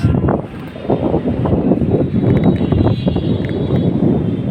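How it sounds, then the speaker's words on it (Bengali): Strong wind from the north before a storm in Gazipur, roaring and buffeting loudly against the microphone in continuous gusts with no voices. "উত্তর দিক থেকে আসতেছে অনেক বাতাস।"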